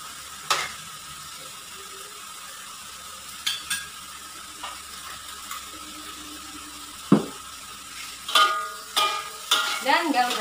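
Spatula scraping and stirring food in a pan after pepper powder and oyster sauce are added, with soft sizzling throughout and a few louder scrapes and clatters toward the end, close by.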